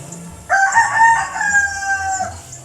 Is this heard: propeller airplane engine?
no